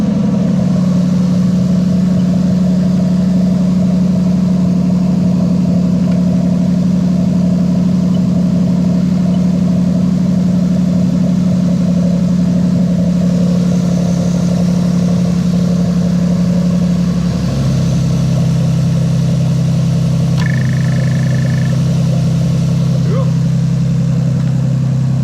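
A Toyota 1JZ-GTE VVT-i engine in an Altezza idles steadily with a strong low hum, the pitch shifting as the clutch is worked partway through, with faint clicks and a brief higher tone near the end.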